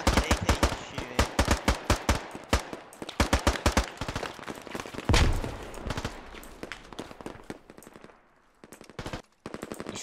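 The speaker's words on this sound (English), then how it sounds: "That's a fucking AK shooting." Rapid bursts of AK rifle fire ring out in a Squad firefight, sharp automatic shots in quick strings, loud and close, thinning to scattered fainter bursts near the end.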